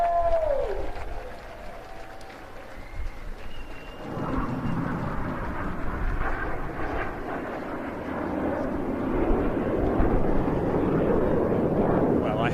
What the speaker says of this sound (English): One last bomb burst from the Reds.